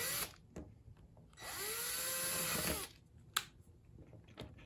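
A power driver whirs steadily for about a second and a half, rising in pitch as it runs a screw into a baby grand piano, framed by brief clicks and knocks before and after.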